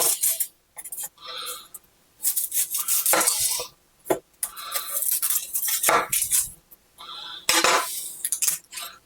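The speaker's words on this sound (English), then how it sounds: "I'm going to cut this onion." A kitchen knife cuts an onion on a board, with a run of close, irregular chops, taps and scrapes separated by brief pauses.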